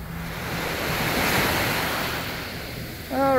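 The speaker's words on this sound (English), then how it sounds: "Oh, that's a decent wave right there." Ocean surf on Bonita Beach, Florida, rolls in as a broad, continuous wash of breaking waves that swells and fades with gusty wind noise on the mic, and a voice starts at the very end.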